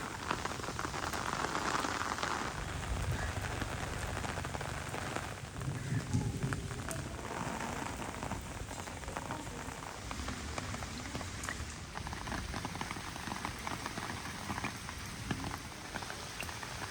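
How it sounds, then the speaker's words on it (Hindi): Light drizzle falls on a Punjab village with mud houses, a dense, steady patter of raindrops on surfaces that continues with no talk. "इस बारिश अब बूंदाबांदी में बदल गई है।"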